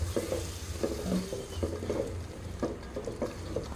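A rice pulao base of yogurt and spices being stirred in a hot pan: rhythmic spoon scrapes and clinks over a soft, steady sizzle.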